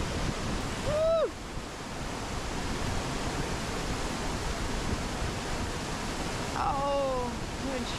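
A 140-foot waterfall in O'Toole Creek Canyon, Washington, gives a steady, close roar of rushing water, with brief high whoops near the start and end.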